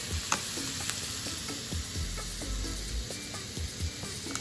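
Green peppers sizzle and fry steadily in a pan for sardine spaghetti, a constant hissing crackle with scattered pops and occasional stirring clatter, no talk.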